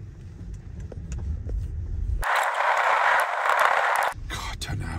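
A vehicle crawls down a steep, rough track to a fishery, its engine rumbling low before a loud scraping, hissing rush of brush or gravel against the body for about two seconds, then the rumble returns.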